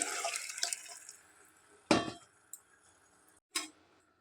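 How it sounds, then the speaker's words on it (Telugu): Water is poured into an egg and drumstick curry in a pot, heard as a splashing pour that fades, then a short burst of liquid and a couple of clinks, with quiet gaps between. "తగినన్ని వాటర్ పోసుకోవాలి"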